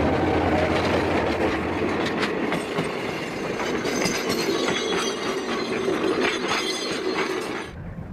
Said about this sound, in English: this train shows no sign of stopping or even slowing